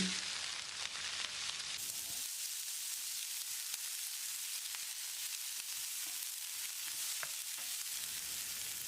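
Chopped onion sizzles and crackles steadily in hot oil, a continuous close frying hiss with occasional sharper pops, no voices.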